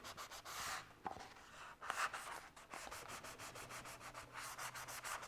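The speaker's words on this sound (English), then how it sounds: "all I'm trying to do is make some kind of big scratches in it" A steel panel with masking tape along its edge is scratched hard with an abrasive, giving a run of rough, rapid rasping strokes close to the microphone, fairly faint overall but steady and unbroken by talk.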